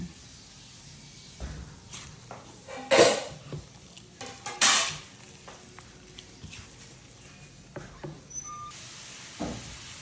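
Utensils clink and scrape against a pan or bowl while a home-cooked party dish is mixed after a splash of sesame oil, with a couple of sharp metallic knocks and soft sizzling underneath.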